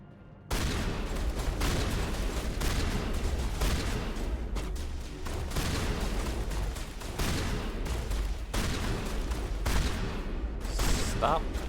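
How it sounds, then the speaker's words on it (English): Shotgun fire in the Mass Effect video game, a rapid string of loud, close blasts in an almost continuous volley lasting several seconds, with a voice talking underneath. "Shotgun."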